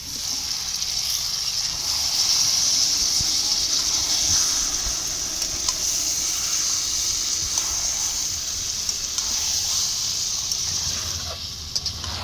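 Chicken hits hot oil with fried onions in a pan, raising a continuous bright frying hiss that holds steady throughout, with faint clinks and no talk.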